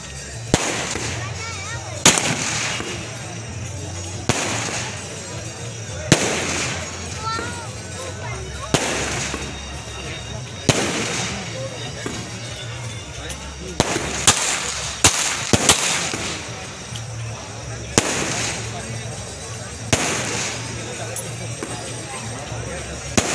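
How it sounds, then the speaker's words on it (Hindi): Celebratory gunfire at a tilak wedding ceremony held at a farmhouse, a series of sharp loud shots fired at irregular intervals over a noisy crowd, with people talking throughout. "आइए हम आपको दिखाते हैं ताबड़तोड़ हुई हर्ष फायरिंग का वीडियो।"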